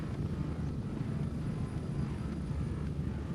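A helicopter approaches a landing zone in the Gray Zone Warfare game, a steady low rumble of rotor and engine that holds even and continuous throughout, with no voices.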